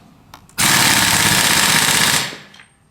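A power tool fires a loud, continuous rattling hammer burst of about two seconds while tightening the clutch hub on a 2022-2026 Hayabusa motorcycle during a clutch conversion kit install, close and alone.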